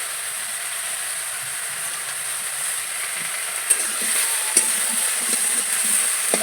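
Vegetables sautéing with turmeric and salt in a pan, heard as a constant sizzle with a few sharp clinks of a spoon against the pan near the end, and no speech.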